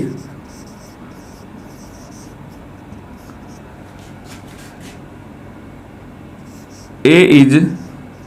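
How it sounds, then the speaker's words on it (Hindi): A definition is written by hand during a Class 11 maths lesson on sets and subsets: a soft, steady scratching runs faintly throughout, with a short louder burst of voice near the end. "मैं यहां डेफिनेशन लिख देता हूं"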